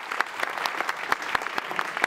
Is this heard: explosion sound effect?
no